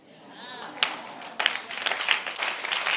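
Church congregation clapping during a sermon by a prophet, scattered claps growing into steady applause after the first second, heard with some voices and no talk over it.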